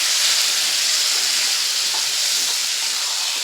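Amudi fish hits a hot pan of spiced oil and sets off a loud, even sizzling hiss that holds steady and close throughout, with no talking.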